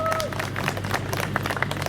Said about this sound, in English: Give Thailand a big clap.